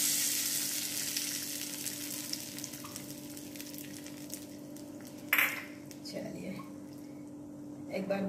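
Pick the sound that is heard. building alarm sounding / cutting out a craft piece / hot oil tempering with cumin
hot oil tempering with cumin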